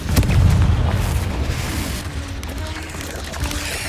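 A Confringo spell blasts in a Harry Potter video game, a loud booming explosion that rolls and crackles for several seconds with no voices over it.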